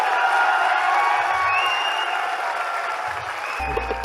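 Audience applause fills a hall at a company's 21st anniversary celebration, a steady, dense clapping that carries through the whole stretch with a faint cheer or whoop rising near the end.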